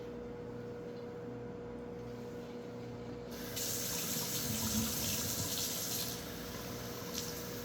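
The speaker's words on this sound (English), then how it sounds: "So I'm gonna pour this out." Liquid poured out into a kitchen sink, a steady splashing rush that starts partway through, rises and then eases under a constant low hum, with no voices.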